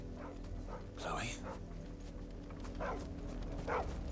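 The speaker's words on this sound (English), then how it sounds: "Oh, you're just a dog." A dog in the video game Final Fantasy XVI gives a few short yips and barks at intervals, moderately close, with a low background hum.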